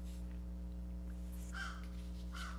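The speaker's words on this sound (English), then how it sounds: "Oh, you can hear the birds in my yard." Birds call faintly outside a yard, heard through open windows as a couple of short caws over a steady low indoor hum.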